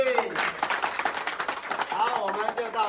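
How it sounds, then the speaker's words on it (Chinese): Audience at a children's home bakery opening in northern Thailand claps together in a brief, moderately close burst of applause with a few voices mixed in. "掌声鼓励。"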